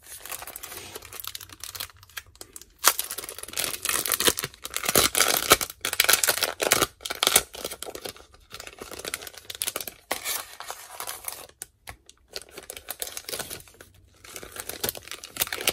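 A plastic packet of stickers crinkles and tears as it is opened, close and crisp, in irregular bursts of rustling with short pauses between handling noises, no talking.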